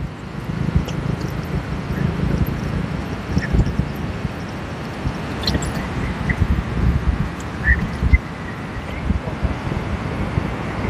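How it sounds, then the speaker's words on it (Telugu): Strong wind gusts across a mountain ghat road on the route from Rishikesh toward Kedarnath, with a steady roaring rumble against the microphone and faint background movement, while someone talks over it. "ఫుల్ గాలి వస్తుంది"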